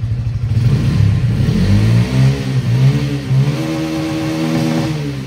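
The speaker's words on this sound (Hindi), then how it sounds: "एक बार हल्के से एक बार थ्रोटल लेते हैं" A Bajaj Pulsar P150 (2023) motorcycle engine revs up with a blip of the throttle, rising and falling in pitch, loud and close, with no talking.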